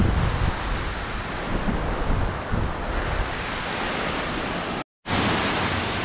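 Cachoeira do Salto waterfall in São Pedro de Alcântara, a powerful, close, continuous rush of falling water, loud and steady, briefly cutting out near the end.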